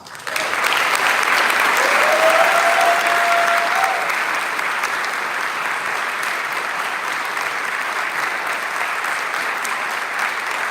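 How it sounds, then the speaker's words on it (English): Audience at a college Scholar's Day awards ceremony bursts into applause for prize recipients. The clapping starts abruptly and holds as a dense, even roar for about ten seconds, easing only slightly toward the end. "I invite you once again to express your recognition with some applause."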